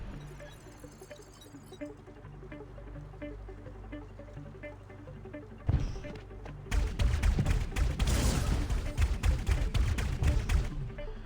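A plasma gun fires in the Dino Squad video game: after a quieter stretch of background game noise, a rapid, loud string of sharp repeated shots begins and continues to the end.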